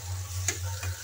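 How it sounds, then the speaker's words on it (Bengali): Garlic and ginger frying in oil for a tomato-based dish, a soft sizzle under a low steady hum, with two brief clicks of utensil contact, close and quiet, no voices. "রসুনটাকে ভেজে নেব"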